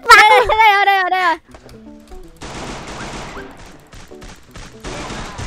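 Gunfire in the Free Fire video game comes as a rapid, crackling fusillade of shots after a brief, high voice at the start, with scattered sharp bursts continuing to the end.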